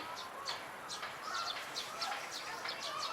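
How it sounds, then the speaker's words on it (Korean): Birds chirp in Seoul Forest, a city park: short, bright calls repeat every half second or so at moderate distance over a soft, steady outdoor background. "그래도 새 소리도 나고"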